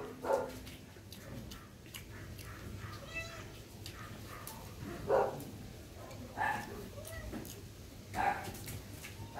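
A dog barks and whimpers in a few short, separate bursts spread over several seconds, close by and moderately loud over a quiet indoor background.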